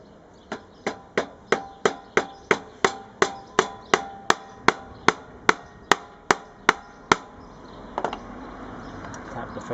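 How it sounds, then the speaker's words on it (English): Hammer tapping metal frets into a pre-slotted fretboard of a handmade acoustic cigar-box guitar: about eighteen sharp, evenly spaced taps at close range, followed by a faint scrape. "Tap the fret in."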